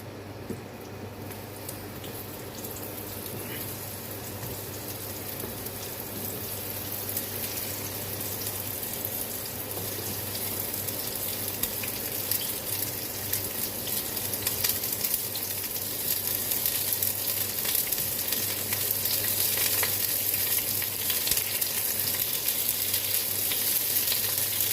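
Onions frying in hot oil in a pan, a steady, fairly quiet sizzle and crackle that continues throughout with no one talking.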